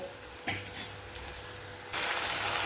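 Tomatoes drop into a pan of softened onions, with a couple of utensil clinks and a scrape, then a loud close sizzle bursts up near the end. No one speaks.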